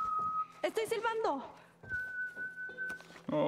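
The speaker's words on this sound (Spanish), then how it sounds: "¡Estoy silbando!" A character whistles a short, wavering tune in The Last of Us Part I, clear sustained notes broken by a pause, with someone speaking in between and game sounds underneath.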